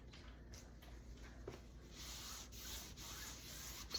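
Paper is burnished by hand to press a glued edge down on a scrapbook box, giving a faint, soft rubbing that keeps going close up.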